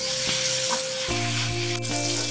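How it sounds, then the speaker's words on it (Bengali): Masala paste of tomato and onion cooked down in oil for a Pabda fish bhuna, sizzling steadily with a few stirring scrapes, close and moderately loud with no talk. "মশলাটা খুব ভালো করে কষানো হয়ে গেছে দেখে বুঝতেই পারছেন যে চারপাশ থেকে তেল ছেড়ে বেরিয়ে এসেছে"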